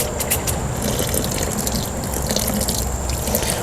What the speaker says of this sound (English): So now we're gonna put our water in.